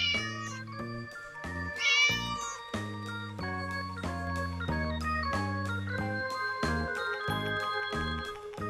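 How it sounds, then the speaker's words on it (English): A cat meows several times, clear and close, its short and drawn-out cries set against soft tinkling music. "Cat. Cat young one is called a kitten."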